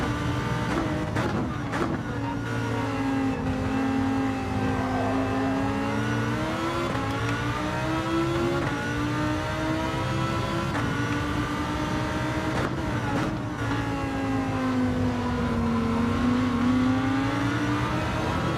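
Race car engines roar continuously in Gran Turismo 7 online lobby racing, steady and loud with rising and falling pitch as cars accelerate and shift, several engines overlapping throughout.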